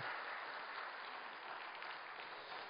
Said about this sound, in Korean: 다 같이 우리 하나님께 영광의 박수